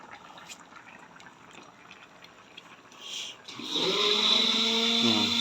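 Kitchen blender whirs into life after quiet clinking and handling, a loud steady motor whine with a rising harmonic hum that holds to the end.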